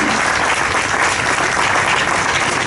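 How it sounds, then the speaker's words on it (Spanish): Loud, dense applause from a crowd at an outdoor memorial ceremony in Málaga honouring those executed at the provincial prison, steady and sustained throughout the short stretch. "Fuerte aplauso para él."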